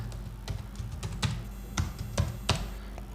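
Keys being typed on a computer keyboard, a run of distinct close clicks at an uneven rhythm over a few seconds, no voices.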